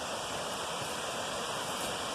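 The Golondrinas waterfall at Agua Blanca, Hidalgo, gives off a steady, even rush of falling water, a broad hiss with no breaks and no voices.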